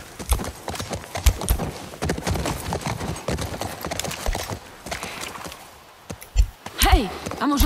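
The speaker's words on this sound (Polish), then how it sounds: "Przeskoczymy sobie na koniku. Wskakuj na konia." Horse hooves clip-clopping in The Last of Us Part I, rapid rhythmic thuds from a horse moving along at a steady gait, close and prominent, with a brief snort or whinny near the end.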